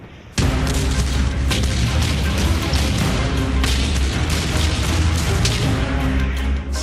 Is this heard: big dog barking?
no